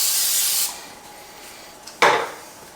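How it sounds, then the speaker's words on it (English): A short hiss of aerosol cooking spray onto a hot pan, then a brief pause before a sharp sizzling burst that fades. "Get a little spray on there because stuff's going to stick,"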